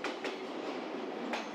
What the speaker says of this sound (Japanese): 鹿児島本線の博多駅から来た特急ソニック